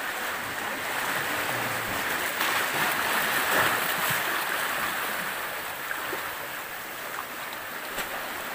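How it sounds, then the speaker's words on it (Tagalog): Steady ocean surf rolls on with a broad, continuous wash of water and light wind, no voices, holding a fairly constant loudness throughout. "malalaki na po yung alon"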